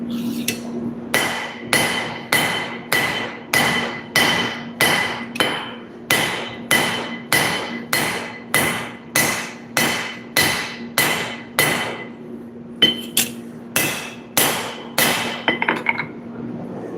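Rhythmic hammer blows ring out on hot steel while two thin nakiri knife blades are forged, about thirty evenly spaced strikes with short pauses, close and loud, with a steady ringing tone beneath.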